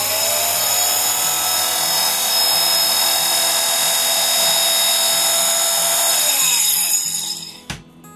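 A multiple-material cutting machine trimming fabric pieces gives off a steady, loud, high-pitched motor whine that runs unbroken for about seven seconds before winding down and stopping abruptly. No one speaks.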